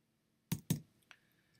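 Two quick, crisp clicks on a computer keyboard while typing text, followed by a fainter third tap, close and isolated in a quiet room.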